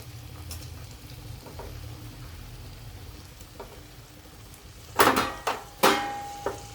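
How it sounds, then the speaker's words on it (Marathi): Sautéed vegetables go into hot, oil-rich masala for a hotel-style mixed veg curry, starting as a low, steady sizzle of frying. Then come a few loud, close metallic clanks and scrapes of a spoon against the pan. "आता हे परतलेल्या भाज्या आपण टाकू मसाल्यामध्ये"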